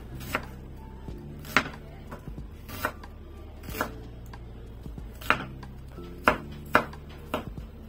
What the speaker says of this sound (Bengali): পেঁয়াজটাকে আমি কুচি করে কেটে নিব।